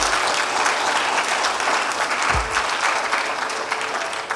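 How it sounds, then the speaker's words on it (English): An audience at a debate championship grand finale and awards ceremony bursts into dense, continuous applause, loud and steady throughout with a brief low thump partway through. "Please give them a round of applause."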